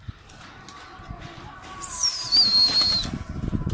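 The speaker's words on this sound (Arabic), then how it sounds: "الزغاليل بتبدأ تطلع اه تطير" Young pigeon squabs flap their wings as they begin to fly, a fluttering rush of feathers that swells midway and stays close, with a faint whistle and background rustling.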